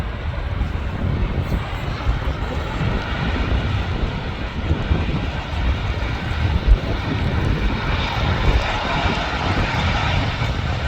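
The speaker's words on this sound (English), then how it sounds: "Still doing reverse thrust, so that was going some speed when it landed. That's an A330." Turkish Airlines Airbus A330 landing at Manchester Airport, its reverse thrust a steady, broad roar heard from a distance with gusts of wind buffeting the microphone, holding loud and constant throughout.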